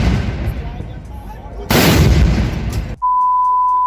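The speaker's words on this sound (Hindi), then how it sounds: "लगे हाथों 21 तोपों की सलामी भी दे दी जाए।" A heavy booming cannon blast from a 21-gun salute sound effect bursts in partway through, loud and close, over a rumbling background, then cuts off into a steady electronic tone.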